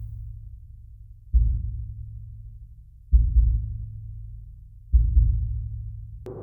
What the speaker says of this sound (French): J'ai mis une petite percussion que j'ai recalée, sur laquelle j'ai mis un EQ qui me permet d'avoir un battement de cœur.